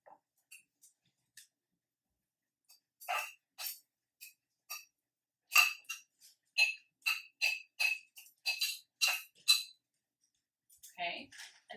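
Roasted cubed vegetables are tipped into a bowl of quinoa, producing a quiet run of small clinks and taps as pieces drop and a utensil touches the bowl, scattered irregularly over several seconds in a quiet kitchen.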